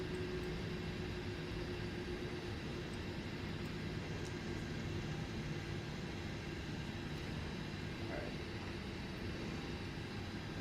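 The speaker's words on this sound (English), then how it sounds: "watch this EasyJet land" An EasyJet airliner comes in to land in Microsoft Flight Simulator 2024, a steady broadband engine and airflow roar that holds evenly throughout with no voices.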